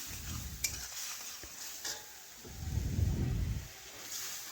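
Turmeric, chili and mustard paste frying in a pan sizzles softly as water is added, with a louder hissing burst midway and scraping stirs with occasional utensil clinks.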